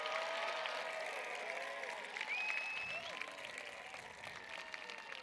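An audience at a high school graduation ceremony for the Class of 2021 applauds steadily, a dense, sustained clapping from a crowd with a few faint whistles and cheers mixed in.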